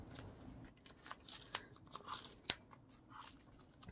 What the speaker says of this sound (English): getting to cut that pom-pom off the pom-pom maker